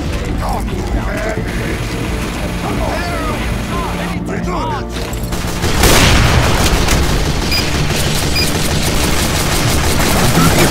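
Gunfire aimed at a turret in Team Fortress 2, a dense barrage of booming shots and rapid machine-gun bursts that swells louder partway through, under a busy game mix with voices.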